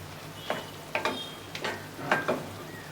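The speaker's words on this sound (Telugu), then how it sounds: "మగ్గిపోయింది కాబట్టి ఒకసారి మనం కలుపుకుందాము" A spoon scrapes and stirs through egg and tomato curry in a frying pan, making a few distinct scraping strokes over a soft, steady sizzle. The sound is fairly quiet and close.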